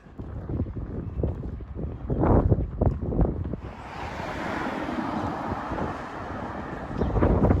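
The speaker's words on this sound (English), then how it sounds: "Oh, it's very breezy today" Steady wind roars across an open outdoor spot beside a football ground in a northeast England town, a broad rushing wash that follows a stretch of footsteps and muffled movement and then holds loud and continuous to the end.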